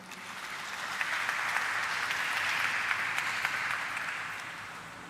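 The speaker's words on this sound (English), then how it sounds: "Can we have a round of applause for him?" An audience applauds steadily, a dense wash of clapping that swells slightly in the middle and eases toward the end.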